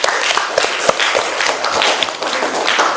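Classroom applause breaks out, a dense spread of many hands clapping close together, lively and sustained for a few seconds.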